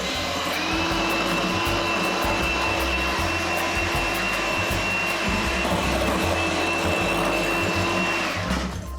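An electric mixer whips cream with powdered sugar, giving a loud, continuous motor whine close by for about eight seconds before it winds down and stops.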